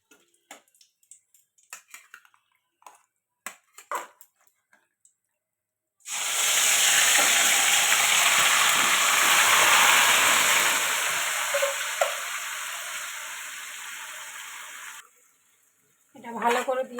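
Chicken dropped into hot oil with bay leaf, dried chilli and whole garam masala bursts into a loud, steady sizzle lasting about nine seconds, preceded by a speaking voice and faint kitchen clatter.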